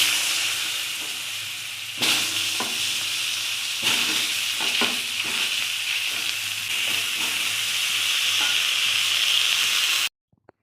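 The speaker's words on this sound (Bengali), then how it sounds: "আলু আর বেগুন একসাথে যে মাছ ভাজা হয়ে গেছে, ওই মাছ ভাজার তেলে ভেজে নেব।" Eggplant and potato pieces fry together in hot oil left from frying fish, giving a loud, steady hiss and sizzle that runs close and continuous, broken by a few stirring knocks, then cuts off abruptly near the end.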